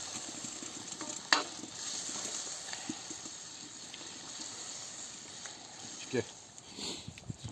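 Chakhokhbili ingredients with homemade adjika and pickled pepper are stirred in a pot, a soft wet sizzle and mixing sound with a couple of louder clinks of a utensil against the pan.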